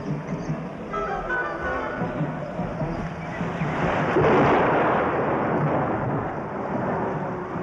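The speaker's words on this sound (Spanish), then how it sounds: "se ha desencadenado la tormenta" A thunderstorm breaks over Spanish mountains: a broad, rumbling roar of thunder and rain swells louder midway and stays heavy to the end.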